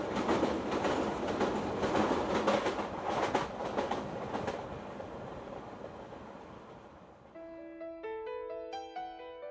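A train runs along rails with a broad, steady rumble that fades after about five seconds, giving way to soft piano-like tones near the end.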